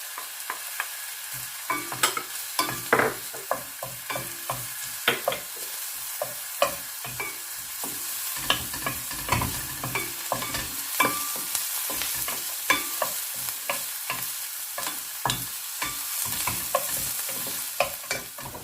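Chopped garlic sizzles and fries in a pan while a utensil stirs it, with frequent scraping clicks over a continuous crackle throughout, and no voices.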